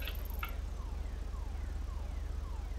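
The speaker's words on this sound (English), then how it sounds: "gonna be responding to that ass on alarm triggering" A car alarm wails in Grand Theft Auto V, its repeating electronic tone steady and fairly loud across the whole stretch, with a few short bright chirps near the start.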